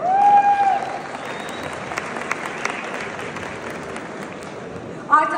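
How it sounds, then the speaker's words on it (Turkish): An audience at a gala dinner claps steadily at moderate volume for several seconds, the applause holding even throughout with a brief tone at the start and end. "Bu bir alkış hak ediyor."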